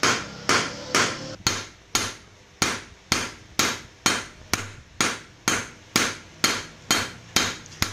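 A hand hammer strikes a pure silver bracelet over and over, about two sharp metallic blows per second in an even rhythm, each ringing briefly before the next, close and loud with no talking.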